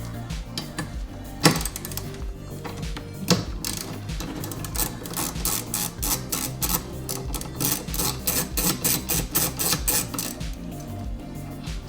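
A 13mm socket wrench ratchets on the wiper arm nut of a 2011 Audi S5, giving a steady run of close, crisp clicks that speed into a fast rhythmic series, with a couple of sharper knocks near the start.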